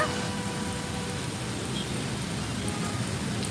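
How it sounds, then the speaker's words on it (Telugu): Steady, dense rainfall pours down continuously in Hyderabad, a broad hissing roar with no pauses and no other sounds standing out. "పూర్తిగా వర్షం తగ్గిన తర్వాత"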